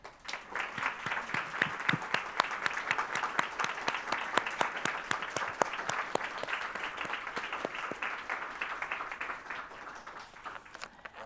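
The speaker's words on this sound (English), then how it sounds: "as we give a warm applause to all our outstanding Master" Sustained applause from a meeting audience honoring master gardeners at a monthly garden association meeting, dense steady clapping filling the room for about eleven seconds without speech.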